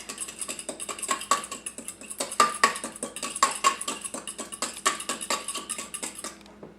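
Hot sauce whisked into a mixture in a bowl: fast, even ticking and clattering strokes of the whisk, close and steady for several seconds, fading at the end, no one speaking.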